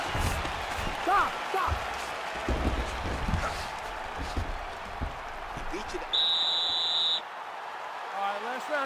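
A steady electronic buzzer marks the end of round 4 in the UFC 4 video game, sounding for about a second amid crowd noise, thuds and commentary voices.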